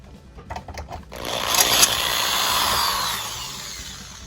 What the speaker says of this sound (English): At first I was using a 7/32 bit to take most of the head off, and then I went down to a 13/64 to just get that middle of the rivet out.